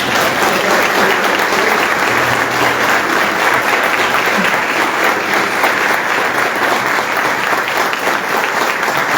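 Church congregation applauding in a loud, continuous burst of many hands clapping, dense and sustained, with faint crowd voices beneath.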